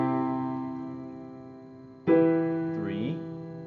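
Sustained piano chords ring out alone, a held chord decaying until a fresh, louder chord strikes near the midpoint and sustains, with shifting upper notes, in a 1-3-4-5 progression on major chords.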